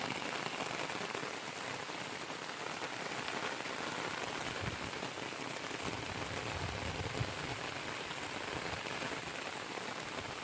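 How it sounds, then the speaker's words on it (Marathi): Monsoon rain falls on traditional farm fields, a dense, even hiss of drops landing on surfaces that continues without a break, fairly soft and steady with no voices. "तर बघा ते येऊन पाऊस सुरू झालेला."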